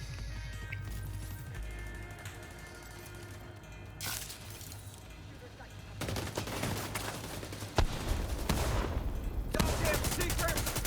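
Automatic turret fire in The Division 2, sustained rapid gunshot bursts crackling at mid distance with layered game combat noise and occasional louder impacts.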